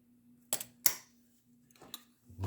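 Nylock nut being driven home and tightened with a vice grip during a bee-blower repair, heard as a few sharp metallic clicks and ratchety clacks close by, spaced irregularly with quiet gaps and a low steady hum underneath.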